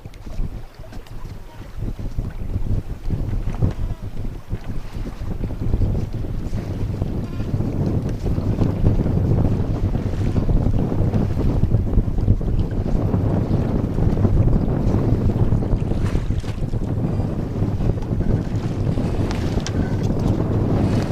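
Sailboat Mingming II heading upwind at sea, with wind buffeting loudly and steadily and water rushing against the hull, a rough, continuous roar that builds slightly after the first few seconds.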